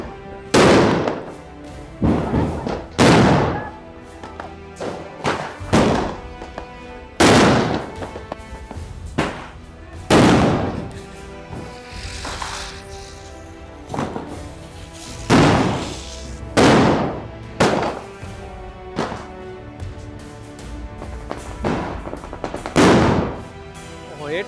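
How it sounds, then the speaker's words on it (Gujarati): Diwali firecrackers burst one after another, sharp loud bangs at irregular intervals, some close and some farther off, over a low background of festive noise. "એટલા ફટાકિયા ફૂટે છે ને કાંઈ એકબીજાનો અવાજ નથી સંભળાતો"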